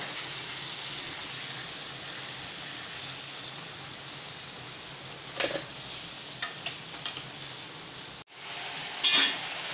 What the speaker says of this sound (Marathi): आता हे मटण छान व्यवस्थित मिक्स करून घ्यायचे।